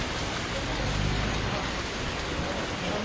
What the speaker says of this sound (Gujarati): હાલ અત્યારે સારો એવો વરસાદ વરસી રહ્યો છે.